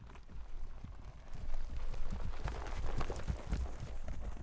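Horse hooves clip-clop in the video game Silent Hill 2, a rapid, irregular run of hoof strikes that grows busier midway and keeps clattering at moderate loudness against a dark, quiet ambience.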